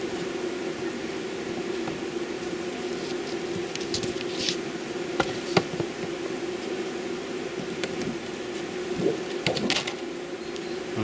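A steady, low drone of honey bees humming together close by on a hive frame, with a few faint clicks and rustles on top.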